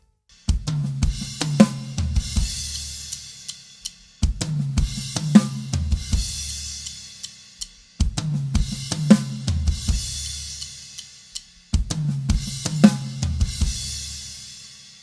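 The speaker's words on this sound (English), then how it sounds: "It starts off with the bass drum, we crash the end of beat 2 and we keep the backbeat on beat 4." A drum-kit fill from a groove, played at a medium tempo: bass drum, a crash at the end of beat two and a snare backbeat on four. It repeats four times, close and clean, with no voices.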